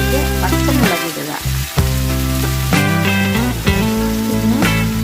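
Ivy gourd frying in a pan as it is stirred, a steady loud sizzle with scraping strokes and a few sharper clatters, under a strong sustained hum.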